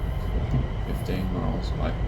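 In Train Sim World 5, a Class 350 electric train accelerates on the West Coast Main Line toward London Euston with a steady rolling rumble, and a person talks over it.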